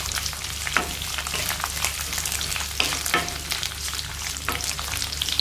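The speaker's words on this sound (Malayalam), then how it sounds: "അതിനകത്തോട്ട് നമ്മൾ അരിഞ്ഞു വെച്ചിരിക്കുന്ന വെളുത്തുള്ളി അങ്ങോട്ടിട്ട് കഴിക്കാം" Mustard seeds, red chilli and garlic fry in olive oil for a gooseberry pickle, giving a continuous loud sizzle with occasional sharp pops and stirring scrapes.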